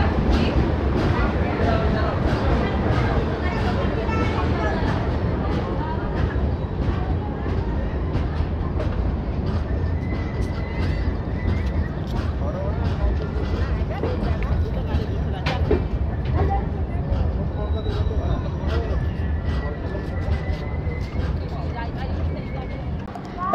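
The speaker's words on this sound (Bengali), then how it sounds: "একেবারে অন টাইম ট্রেন এসে পৌঁছালো খুর্দা রোড জংশন।" The Dhauli Superfast Express pulls into Khurda Road Junction with a continuous loud rumble of wheels and carriages and faint clicks from the rails, while voices talk over it.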